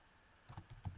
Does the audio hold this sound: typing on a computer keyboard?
yes